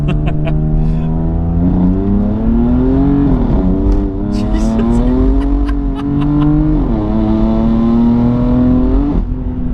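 A BMW M4 F82 engine revs hard and climbs in pitch as it accelerates, loud and close, with a brief exclamation from a passenger.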